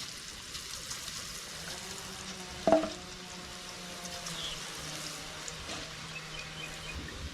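Egg bajji batter frying in hot oil, giving a continuous close sizzle with one brief louder splash of batter hitting the oil partway through, and no voices.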